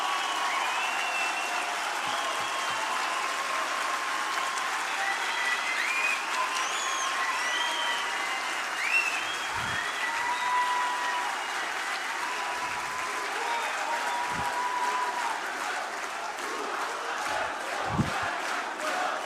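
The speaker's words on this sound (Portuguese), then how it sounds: "Que bom que vocês aplaudiram" Sustained applause from a large audience at a liberty forum, steady dense clapping that runs unbroken for nearly twenty seconds, with occasional shouts and crowd noise mixed in.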